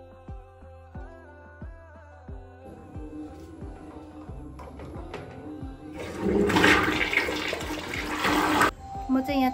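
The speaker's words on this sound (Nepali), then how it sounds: "यो फ्लस गर्दाखेरि चाहिँ मजाले यसको सेन्ट आउँदो रहेछ" A toilet flushes loudly in a home bathroom, with a rushing surge of water filling the second half after some softer clicks and knocks, then draining away near the end.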